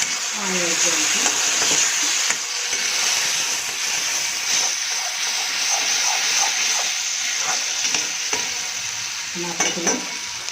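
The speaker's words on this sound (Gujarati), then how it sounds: "થોડું આપણે આમાં પાણી એડ કરીશું." Hakka noodles in a hot pan take a splash of water and keep sizzling loudly, with steady hissing and repeated stirring and scraping sounds throughout, close and without speech.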